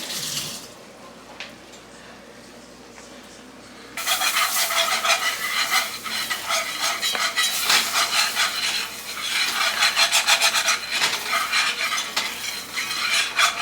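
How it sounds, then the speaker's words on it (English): A wire whisk stirring flour in a pan to brown it, starting quietly and then turning into a continuous scraping, swishing rhythm with a bright, gritty texture, close and fairly loud. "We're gonna keep stirring this flour, guys, until it gets to where we want it at, right?"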